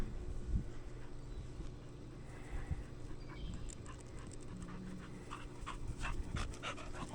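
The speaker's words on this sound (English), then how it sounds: "Crazy dog." A dog pants steadily while playing ball outdoors, its breathing close but partly buried in a broad wind-like rumble and background noise, with a few soft whimpers and no talking.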